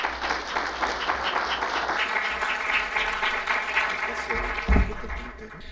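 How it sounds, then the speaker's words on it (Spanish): An audience at an architecture and education biennial event breaks into applause, a dense, steady clapping filling the room for several seconds with a louder burst near the end. "para quienes pido un fuerte aplauso"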